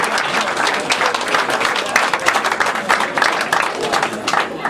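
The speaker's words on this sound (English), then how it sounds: "I think a round of applause for that, please." A bar crowd after a Keighley Cougars rugby league match against Rochdale Hornets applauds the team, dense steady clapping filling the room at close range throughout.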